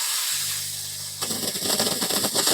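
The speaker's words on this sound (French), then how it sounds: "Un bon coup de vapeur humide" Junior Star Auto steam generator releasing a strong burst of wet steam while cleaning a car's floor mats, a loud broad hiss that starts suddenly over a low hum and continues with crackly spitting.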